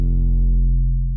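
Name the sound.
distorted filtered sine wave bass with sidechain on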